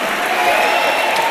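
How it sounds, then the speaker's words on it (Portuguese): A church congregation breaks into brief, loud applause, a wash of many hands clapping at once, with voices mixed in over it. "Forte aplauso ao Senhor."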